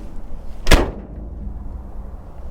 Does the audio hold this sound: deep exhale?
no